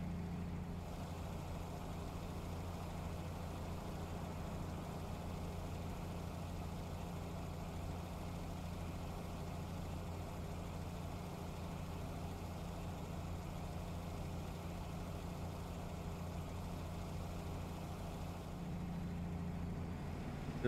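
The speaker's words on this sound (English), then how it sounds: "But that's what it sounds like with a straight through exhaust" A truck with a straight-through exhaust idles with a steady, deep, rumbling drone, continuous and close, with no voices over it.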